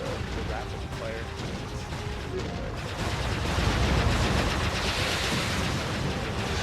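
Rapid-fire attack in the Jade Empire action RPG, a dense, continuous barrage of game combat noise that swells louder in the second half, with no pauses between hits.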